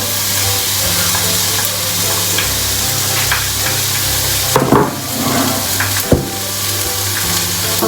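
Onion and capsicum fry loudly in a pan, a dense close sizzle running throughout with a few sharp stirring knocks and scrapes midway, and no voices.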